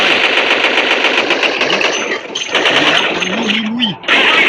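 Rapid automatic gunfire from the video game Dead Effect 2 rattles loudly and continuously, with a brief lull midway. Game effects sit underneath the shots.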